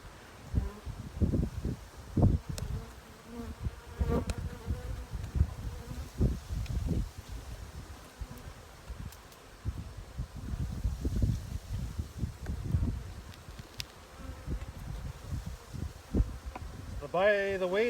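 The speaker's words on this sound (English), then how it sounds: "Lots of bees." Honey bees buzz busily around an open hive, a dense, close swarm hum with individual bees zipping past the microphone in fluctuating bursts, faint rustling and wind underneath.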